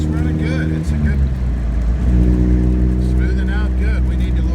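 A 1961 Triumph TR3B's engine runs steadily on a road test, a loud, close, continuous drone with a brief dip before the revs settle again.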